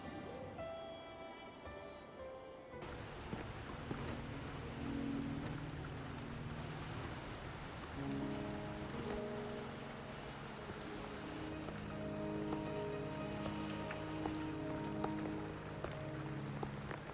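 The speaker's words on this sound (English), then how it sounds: "Are you trapped here by the rain?" Steady rain patters on surfaces in the game Wuthering Waves, with soft music tones layered underneath for the whole stretch.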